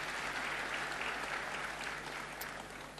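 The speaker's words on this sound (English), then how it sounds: "Another round of applause, please." A university audience applauds in a dense, steady wash of clapping that fills the room, easing slightly toward the end with no talk over it.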